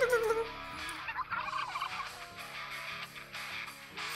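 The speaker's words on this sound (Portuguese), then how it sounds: "um peru correndo ali, ó" A turkey in a video game gobbles and runs across a forest meadow race track, its calls sounding against a busy layered game soundtrack throughout.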